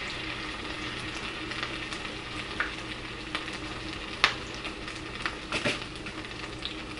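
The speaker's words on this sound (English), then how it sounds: "And that is going to go into the hot oil. One of the coated pork chops in very slowly," A breaded, noodle-coated pork chop fries in hot oil with a steady bright sizzle, broken by scattered sharp pops and crackles, heard close and alone.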